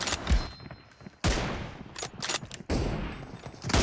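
Sharp gunshots from an M24 sniper rifle in BGMI, a handful of loud cracks spaced irregularly over a few seconds, each with a quick punchy onset and short decay.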